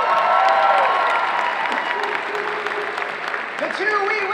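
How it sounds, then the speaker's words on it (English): A convention crowd at a cosplay contest applauds and cheers, a steady roar of clapping with an amplified voice and music tones running beneath it. "Give a round of applause, everyone, in the journeyman category."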